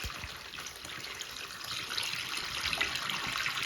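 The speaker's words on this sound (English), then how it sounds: "let's flush something here" Toilet flushing pom-pom balls down a prototype setup with a mega tank and mid tank, a steady, loud rush of water that swells slightly toward the end, close and continuous without any voices.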